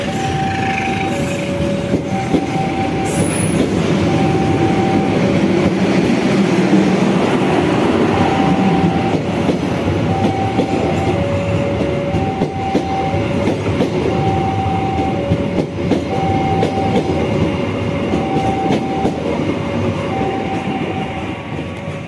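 A CC 206 diesel locomotive hauls a passenger train past, a steady loud rumble of engine and rolling wagons with a repeating horn-like tone pattern throughout, close by and without talk.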